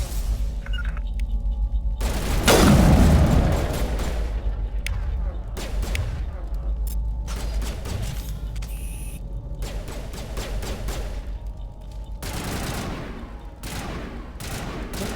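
Gunfire in Mass Effect Legendary Edition, with rapid bursts of shots and heavy impacts over a constant low game drone. Bursts repeat throughout, and someone talks over them at times.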